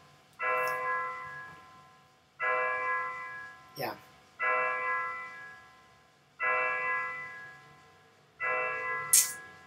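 Church bells toll in the video game Torment. Resonant strikes repeat about every two seconds, each ringing out and fading, and a voice briefly cuts in between them.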